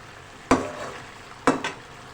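Chicken pieces being bhuna-fried in a karahi for ginger chicken karahi: two sharp stirring scrapes with bursts of sizzle, about a second apart, over a low steady frying hiss.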